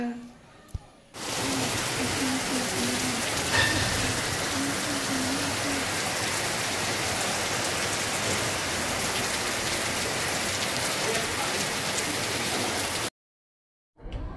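Evening rain falls steadily outside a house, a dense even hiss that stays constant for about twelve seconds before cutting off. Faint voices can be heard under it.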